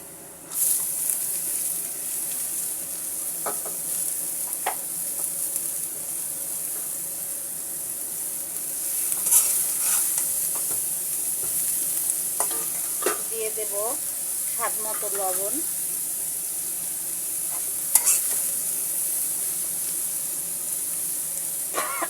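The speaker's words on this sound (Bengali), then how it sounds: "এবার আমি পেঁয়াজ রসুনের মধ্যে দিয়ে দেবো কুচি করে রাখা পেঁপে" Chopped papaya fries with onion and garlic in a pan, producing a steady, fairly quiet sizzling hiss throughout, with a few brief clinks and a short stretch of faint voice-like sound midway.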